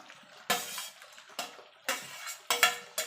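Jackfruit chunks tipped into a pan of spiced potatoes for a vegetarian Bengali curry, with several sharp scraping clanks of a metal spatula against the pan in an uneven rhythm, close and clear with no talking.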